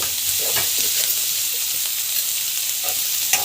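Spices sauté with asafoetida and rock salt in a hot pan, giving a close, continuous sizzle with a few stirring scrapes and no voice.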